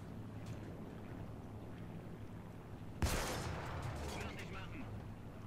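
A Panzer IV Ausf. F2 tank cannon fires in War Thunder, one sudden loud broadband blast that cuts through steady engine rumble and wind, then trails off into a lingering roar.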